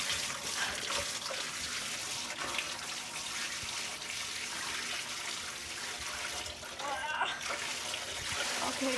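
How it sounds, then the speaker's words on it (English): Water is slowly poured into a container for a baby turtle, producing a steady, close trickle with light splashing throughout. "I'm going to slowly pour it in so it doesn't splash everywhere."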